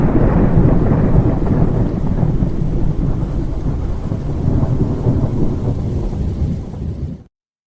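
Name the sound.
thunderstorm sound effect from a music track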